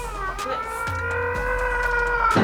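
A cat on a film set lets out a long, drawn-out, wavering meow, loud and close, sustained through the clip and rising at the end.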